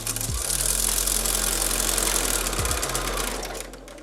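A sewing machine stitches quilt binding strips joined perpendicular, a steady close motor whir with rapid needle clatter running continuously for about four seconds, easing off near the end, with no talk.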